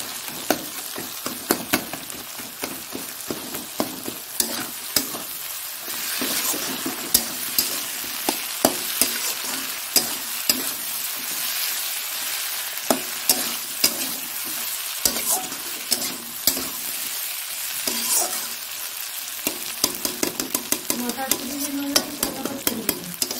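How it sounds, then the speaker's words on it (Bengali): Egg scrambled into fried potato and cauliflower in a pan, with a steady sizzle and constant scraping, clattering spatula strokes throughout, close and fairly loud, without talk. "আলুটা আর কপিটা ভাজা হয়ে গেছে, এবার ডিমটা দিয়ে দিয়েছি। ডিমটা এইভাবে করে একদম ঘেটে নিলাম।"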